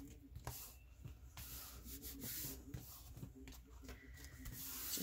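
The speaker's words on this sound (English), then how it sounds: "I'm going to fold it over and we're going to rub that down." Hands rub down the glued back cover of a ring binder journal, making soft, close, repeated scraping strokes in an uneven rhythm, faint overall.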